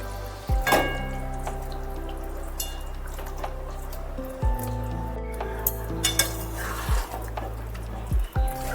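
Fried chicken pieces being stirred into ground spice masala in a pot give off a soft sizzle with metal clinks and scrapes at irregular intervals, all over a constant low mechanical hum, no voices.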